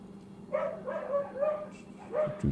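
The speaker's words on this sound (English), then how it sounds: "My goodness, the doggies." Dogs bark in a few short yipping bursts, moderately close, with a brief whimpering quality between the barks.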